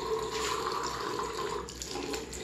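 Tap water runs steadily from a faucet as hands are rinsed at a sink, making a continuous close, fairly loud splashing hiss that barely changes throughout.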